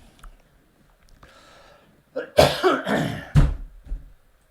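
Several harsh, loud coughs burst out in a quick cluster after a few quiet seconds, close to the listener, with a faint breathy sound beforehand.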